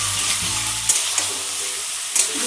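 Close, constant sizzle of spices and boiled potatoes sautéing in a pan for aloo dum, with a few stirring scrapes and a low hum underneath, no voices.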